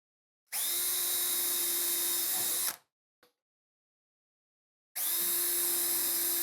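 Power drill pre-drilling screw holes in plywood for a shop vac silencer cabinet: a loud, steady whine runs for about two seconds, stops, then starts again after a short pause, with no talking.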